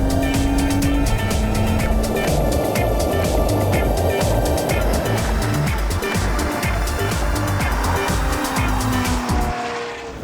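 A Porsche Panamera engine roars hard and close, a deep throaty note rising and falling under acceleration with tire squeal mixed in, loud and continuous before fading at the very end.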